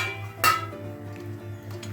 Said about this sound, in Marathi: आपण एक प्लेट घेतोय